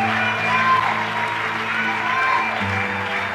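A church congregation greets a visiting bishop with applause and cheering, continuous clapping and raised voices under a sustained droning tone from instruments, loud and steady throughout.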